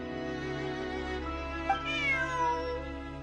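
A cat meows in the video game Genshin Impact, one drawn-out, wavering cry set over a steady hum of game music and ambience.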